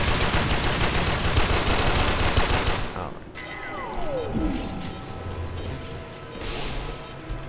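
Enemy gunfire in the video game Warframe: a loud, dense burst of rapid automatic shots that cuts off abruptly, followed by quieter mechanical whirring and a swooping tone.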